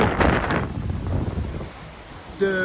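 Strong wind of about 30 knots roars across a Pogo 30 racing sailboat on a rough sea during an ocean crossing from Madeira to Martinique, a steady loud rush with no voices.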